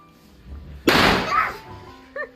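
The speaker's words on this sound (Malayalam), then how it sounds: "വിഷു ആയതുകൊണ്ട് തന്നെ തലേന്ന് തന്നെ ബാക്കിയൊക്കെ പൊട്ടിച്ചോണ്ടിരിക്കുകയാണ്" Firecrackers set off at home on the eve of the Vishu festival: a single loud, sharp burst that crackles and fades over under a second, followed by quieter background sounds.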